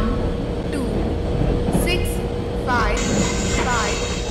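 Indian Railways goods express train in a train simulator pulling into a platform, a steady loud rumble throughout with brief horn-like tones and station sounds layered on top.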